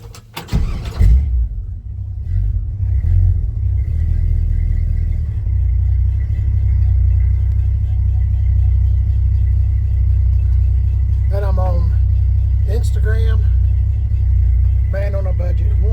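A 1966 Chevy C10 pickup's V8 cranks over and starts, then idles with a heavy, loud low rumble through an incomplete exhaust that does not run all the way back. The idle stays steady throughout while someone talks over it in short bursts.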